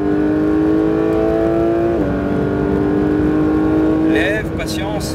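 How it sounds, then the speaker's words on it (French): A Porsche GT3 accelerates hard on a race track, a loud, close engine note climbing in pitch, dropping briefly at a gear change, then rising again, with a voice briefly heard near the end. "Et débraque, accélère tout de suite."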